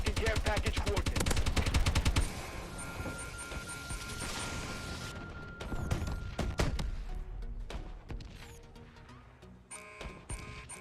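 Rapid gunfire in a Call of Duty match, with a warbird gunship overhead: a dense burst of fast automatic shots, then scattered bangs and impacts over a continuous mechanical drone.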